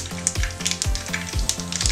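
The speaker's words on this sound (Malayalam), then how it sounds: "ഈ എണ്ണയ്ക്കകത്തേക്ക് നമുക്ക് അല്പം കടുക് ഇട്ട് കൊടുക്കാം." Mustard seeds splutter and pop in hot coconut oil for a chicken pickle, a dense rapid crackle of sharp bursts close by, with no talking.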